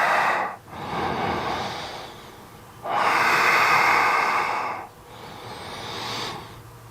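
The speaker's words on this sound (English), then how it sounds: "3 breaths." Deep breathing during a yoga bridge pose, slow audible inhales and exhales in long swelling waves, close and breathy, with no talk.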